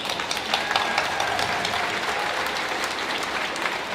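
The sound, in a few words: crowd applause at Aboriginal folklore festival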